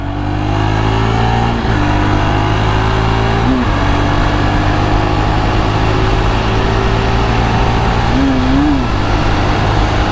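A 2024 JAWA Perak 350 motorcycle engine accelerates to overtake on a bend. It drones loudly and steadily, rising in pitch, with brief dips where the gears shift.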